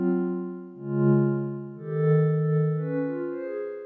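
A smooth, sustained synth pad plays slow shifting chords, each swelling in and blending into the next with a soft reverberant tail.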